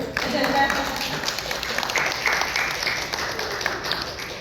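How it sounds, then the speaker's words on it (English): Audience applause at a UN event of the Africana Women Working Group, a steady wash of clapping lasting the whole stretch, with voices mixed in underneath. "I want to give a round of applause for Professor Dr. Ada Ikito,"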